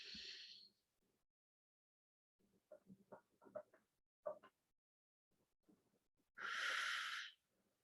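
During a breathing exercise, one long, deep inhale through the nose is heard up close, loud and airy, after a short exhale and some quiet shuffling, with no talk.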